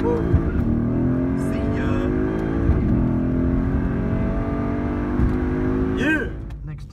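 A Mercedes C63 AMG accelerates with a loud, rising engine roar that sweeps past and fades near the end, while people talk and call out over it.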